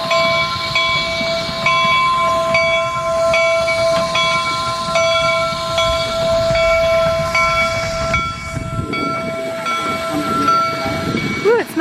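Union Pacific No. 119 steam locomotive sounds a long, steady whistle with a train rumbling underneath, loud and close for nearly twelve seconds, with faint voices behind.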